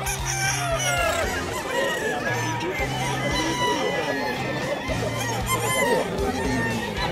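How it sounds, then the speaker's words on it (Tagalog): Chickens at a pet market crow and cluck steadily, with a rooster's crowing standing out amid a busy, noisy outdoor crowd, and people talking faintly in the background. "Mga manok."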